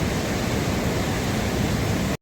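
Floodwater of the swollen Beas river rushing beneath the Bhootnath bridge, a loud, steady broadband roar close by and unbroken, with no voices over it.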